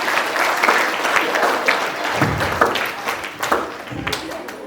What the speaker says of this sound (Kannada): ಬರಲಿ ಜೋರಾದ ಚಪ್ಪಾಳೆ